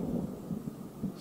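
Low rolling thunder from a big storm over woods, a deep sustained rumble with a few swelling pulses, distant but steady, no speech.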